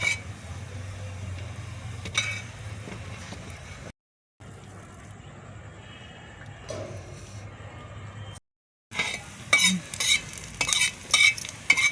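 Coriander seeds, chillies and sesame dry-roasting in a pan, heard as scraping stirs and a faint crackle, broken by two short silent gaps and growing busier near the end.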